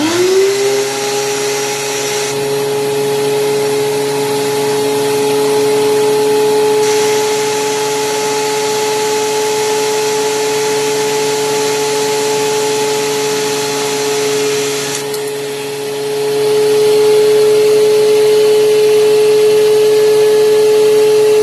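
A DeWalt DW735 thickness planer spins up and runs with a loud, steady high motor whine and whooshing cutter noise that swells briefly as wood passes through.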